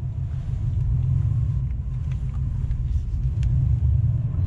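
Tuned, emissions-compliant L5P Duramax diesel pickup accelerating in second gear, a loud, steady, deep rumble that holds evenly throughout with no talking over it.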